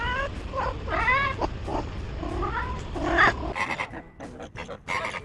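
A cat meows repeatedly in a farm setting, several drawn-out, wavering cries close to the microphone, followed by a few sharper, clipped sounds.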